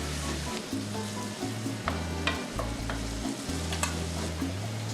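Bacon sizzling in a pan for a pasta Bolognese while being stirred, a continuous close crackle with regular scraping of a spoon through the pan and no talking.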